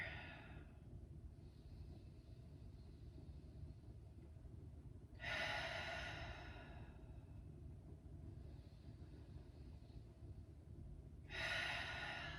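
During a yoga pose, slow heavy breaths come in two strong, close exhalations about six seconds apart, with softer breaths in between over a low steady background rumble.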